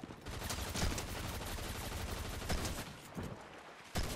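A shotgun fires in a video game as a run of loud, sharp shots over a steady noisy background, with a few distinct blasts standing out near the end.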